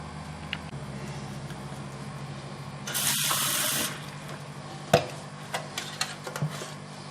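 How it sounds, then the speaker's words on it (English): Tomato seeds from Ox Heart and Black Russian tomatoes are poured into a glass of water, giving a brief, close splash of about a second, followed by a few small clicks in a quiet room. "now we're going to empty these things into a glass of water to see how many of them float and how many of them sink"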